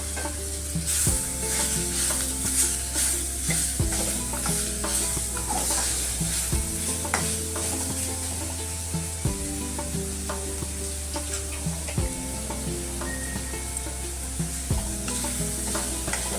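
Onion and tomato sautéing in a pan with salt, a loud, close sizzle with repeated scraping and knocking of a spoon as the mixture is stirred at a regular pace.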